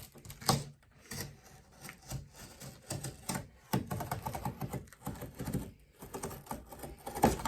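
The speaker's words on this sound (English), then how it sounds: "we're going to use our method of scoring that area so that it's easier to fold" Cardboard packaging for an iPad being scored with a blade along a fold line, heard as close, rough scraping and crunching strokes in irregular bursts with brief pauses.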